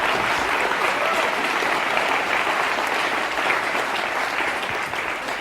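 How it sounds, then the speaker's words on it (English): A studio audience at a TV improv comedy show applauds in a dense, steady wash of clapping that holds at even loudness throughout, with no talking over it. "applaud if you want to."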